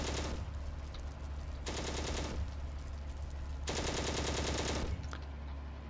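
Bursts of machine gun fire rattle in the tank combat game Steel Fury, set in Operation Barbarossa, with two long rapid-fire volleys over a constant low engine rumble.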